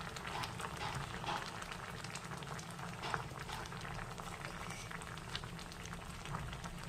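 Dal bubbles at a steady boil in a pot meant for a sour fish curry, a soft, continuous gurgling and popping at low volume with no voices.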